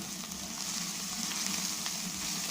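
Mushroom butter masala frying in a pan, giving a dense, continuous sizzle with faint soft stirring, loud and steady throughout, no talk.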